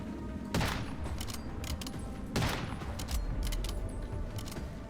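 Bursts of automatic gunfire in the survival shooter Once Human during a fight with the Manibus boss, with two heavier booming impacts over a steady background of rapid shots, fairly loud and without talk.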